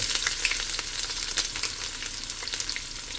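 Onions hitting hot oil with small pieces of cinnamon in a pan while cooking beef tripe, a steady crackling sizzle with scattered pops and stirring, close and fairly loud, without speech.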